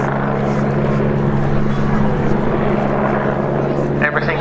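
An aircraft performs a steep air show display, a steady loud engine drone with a strong low hum under a continuous roar, heard alongside a commentator's talk.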